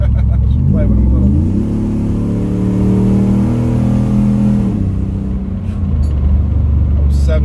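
A cammed Ram pickup truck accelerates hard on a highway pull, its loud engine note rising steadily in pitch through the gears, then dropping back to a steady drone; road and wind noise fill the cab throughout.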